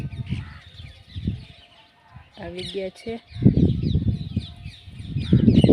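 Peacocks call in the evening in a village setting, giving a brief, loud, harmonic cry in the middle that stands out between stretches of nearby talking.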